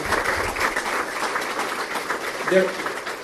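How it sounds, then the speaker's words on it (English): Audience clapping at a country club awards event for the fire department, a brief burst of applause mingled with crowd chatter and a voice. "give them a clap"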